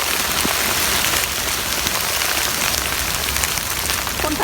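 Steady, loud rain pours onto leaves and the ground in a forest during porcini mushroom picking, a dense, continuous patter with no voices.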